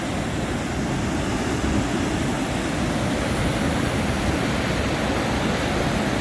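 Strong monsoon water rushing over Parannur check dam, a loud, steady broadband roar that stays constant throughout with no voices.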